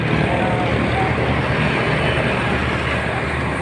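Steady roar of passing traffic beside a highway, heard up close while walking along the roadside, a continuous broadband rumble with no breaks and faint voices now and then.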